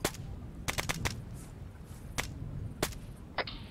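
Arma 3 gunfire: sharp individual shots, some in quick clusters of three or four and others spaced apart, crack against a low ambient rumble, each shot distinct and moderately loud.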